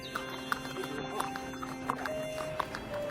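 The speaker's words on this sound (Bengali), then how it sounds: "আসিম তার ছোট ঘোড়ায় ভোরের আগে রওনা হয়েছিল" A small horse in a Bengali cartoon story trots with light, regular hoof clip-clops set over a soft background music bed, moderately close and quiet.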